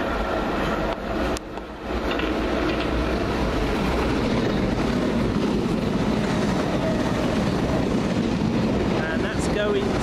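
A London Underground Piccadilly line train rumbles past near Stamford Brook, a dense, continuous rolling clatter that stays loud throughout, with a brief dip early on and people talking faintly under it.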